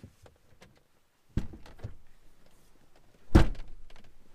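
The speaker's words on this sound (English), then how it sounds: "We'll open and close the door to let the truck know that everything's off." Two dull thunks a couple of seconds apart, a GMC Sierra pickup truck door opening and shutting, with faint clicks and rustling between them, close by.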